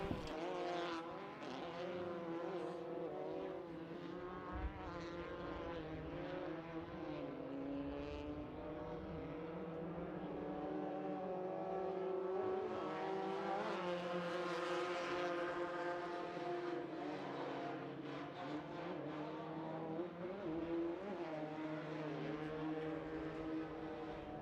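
A desert buggy race car runs hard around a track, its engine note droning and shifting in pitch over a long continuous stretch, loud and sustained with a brief surge near the middle.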